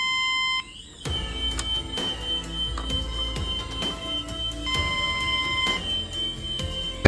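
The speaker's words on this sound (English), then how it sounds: "the main phone receives the incoming call reminder from extension number 6" An incoming call alert sounds on the main unit of a Sanjiang DH2201BKE intercom telephone system when extension 6 calls. It is a steady electronic beeping tone, repeating in regular pulses for several seconds, close and clear, with no talking.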